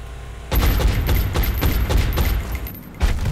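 Soldier gunfire in the strategy video game XCOM Enemy Within, a loud, dense burst of rapid automatic shots starting abruptly, fading toward the end, then a final sharp crack.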